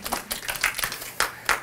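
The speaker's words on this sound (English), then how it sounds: "Give yourselves a round of applause" A lecture-hall audience claps, with loose, scattered hand claps and bursts of applause, moderately close and uneven in rhythm.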